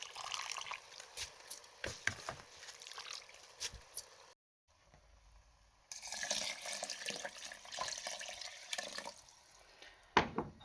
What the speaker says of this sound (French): il faut rajouter l'eau juste à la même hauteur que le riz et laisser cuire à feu moyen